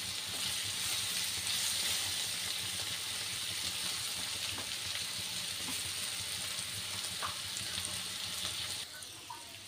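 Bitter gourd (karela) fries in a pan with a steady, soft sizzle close by, occasional faint scraping as the pieces are turned, and the frying dropping slightly quieter near the end.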